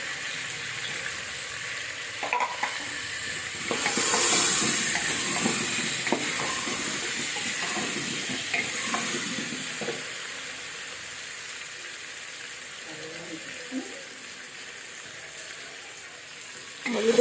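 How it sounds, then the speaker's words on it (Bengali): Potatoes fry in a pan as turmeric powder goes in, a steady sizzle with scraping stirs and light clinks running throughout, loud and close, with no voices. "আলুটা ভালোভাবে ভাজা ভাজা হয়ে এসছে"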